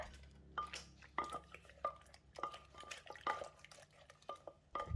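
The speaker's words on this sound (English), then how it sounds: "Now I can mix the ingredients together." Long bean som tam salad ingredients being mixed in a bowl or mortar, irregular knocks, clatters and wet stirring sounds, close and fairly quiet, with no talk.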